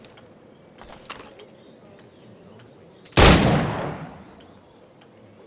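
A single loud, close firearm gunshot in Assassin's Creed IV Black Flag, a sharp blast that decays over about a second, preceded by quieter clicks and handling noises, with a brief spoken word near the start.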